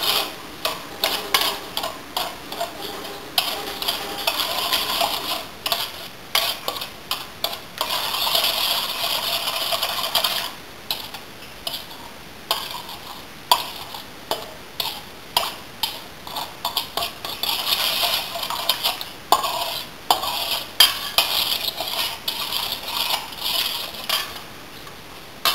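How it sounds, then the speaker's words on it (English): Sugar and shortening are worked together in a mixing bowl, giving a gritty, sandy scraping in quick repeated strokes with brief pauses between bursts, close and steady throughout with no talking. "You'll know when the sugar is melted because you can hear it inside your bowl, the grinding like sand."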